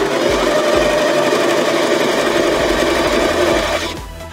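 A Singer Tradition 2250 domestic sewing machine stitches through two layers of medium-weight denim, a loud, close, steady motor whir with a fast needle rhythm that runs continuously before winding down at the end.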